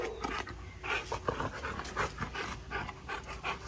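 A pit bull pants close by in quick, steady breathy puffs, with occasional small whimpers mixed into the rhythm and some background room noise.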